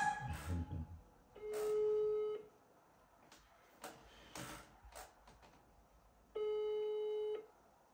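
An outgoing phone call's ringback tone plays two long, steady beeps separated by a quiet gap, with faint clicks and background noise between them.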